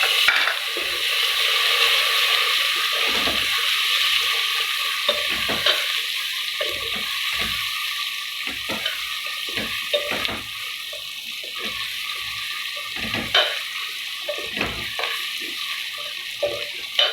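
Potatoes hit a hot pan for salted rice, a loud sustained sizzle broken by repeated scraping stirs and clanks of the spoon, close up and with no talking.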